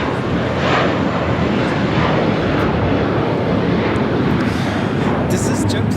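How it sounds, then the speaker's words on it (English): A JetBlue Airbus A321 jet takes off from Los Angeles LAX, a loud continuous engine rumble with wind buffeting the microphone, while a voice talks over it. "This is JetBlue Airways 888 taking off to Boston on the A321"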